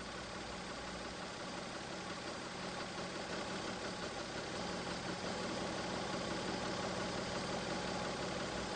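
A Mazda MX-3 engine idles steadily during idle speed adjustment, a faint, even hum with a constant low drone and no changes in rhythm throughout.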